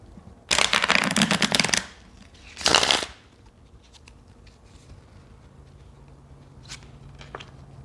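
A deck of cards is shuffled for a card reading in two close, crisp bursts of riffling, a longer one and then a short one, followed by quiet with faint soft handling sounds.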